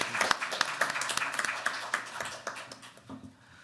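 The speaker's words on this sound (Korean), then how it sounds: "정말 큰 박수로 우리 감사드립니다." An audience at a National Assembly policy forum claps in a brisk, uneven burst of applause, fairly soft and slightly distant, tapering off at the end.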